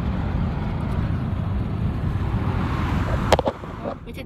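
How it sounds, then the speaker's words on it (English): Wind roars steadily through a car driving with all its windows down, a dense low rumble that stays loud throughout, with a few brief knocks near the end. "Sorry it's really loud. All these windows are down."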